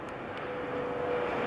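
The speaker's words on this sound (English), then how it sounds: "Got an airplane coming inbound." Airplane passing overhead near Roanoke, a steady low engine drone with a faint whine, moderately loud and building slightly, no talk.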